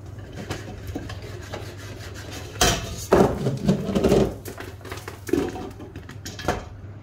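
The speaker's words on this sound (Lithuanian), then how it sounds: "jau reikia kas nuo karto pajudinti puodą, kad jie nepriliptų prie dugno" A pot of popcorn being shifted on a gas stove, metal scraping and rubbing against the burner grate in uneven bursts over a steady low hiss, with no talking.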